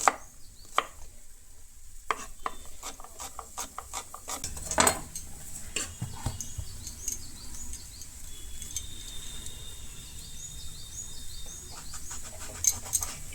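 A knife chops fish into small pieces in a home kitchen for a South Indian meal, giving a run of quick, faint taps and knocks in uneven rhythm with soft clinks of utensils, no talking.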